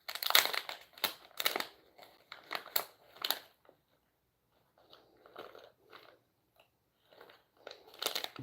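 Paper shopping bag handled close by, its crisp crinkling and crunching coming in bursts over the first few seconds, then fainter rustles with a pause, and a loud crinkle again at the end; no talking.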